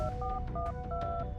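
Phone number dialed on a keypad: a quick run of steady, bright DTMF tones, several beeps in an uneven rhythm, close and clear over a low background hum.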